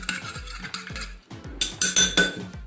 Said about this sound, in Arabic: والآن سوف نقوم بخلط المكونات مع بعض